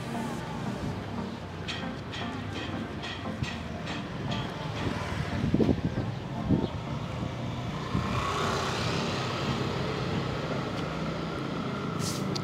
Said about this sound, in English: as you can see with these motorbikes going past, this is a fairly well-used through road